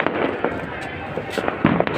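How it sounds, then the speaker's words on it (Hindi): Firecrackers going off during the Makar Sankranti festival, scattered sharp pops and bursts over a dense background of crowd noise and voices. "उसी तरह पटाखे छूट रहे थे।"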